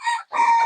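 An Egyptian Fayoumi chicken on a farm crows in a short, loud, close call that breaks off briefly and resumes, with no other sounds.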